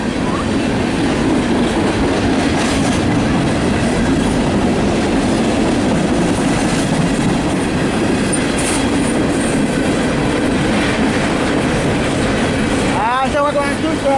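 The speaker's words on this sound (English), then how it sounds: "Got another train coming right now." A CSX freight train rolls steadily past close by with a constant rumble and rattling wheels. A short squeal of wheels rises near the end.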